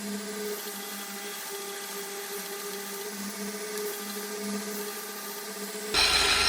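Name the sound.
drilling holes in a Damascus steel knife blank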